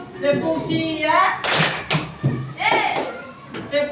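Schoolchildren in a classroom clap their hands during a clapping game, a few sharp claps breaking through an adult voice and children's chanting that carry on over most of the moment.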